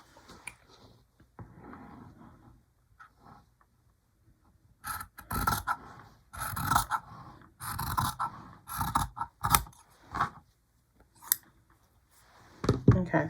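Scissors snip and rasp through quilting fabric in short bursts, close up, with a few soft pauses between cuts.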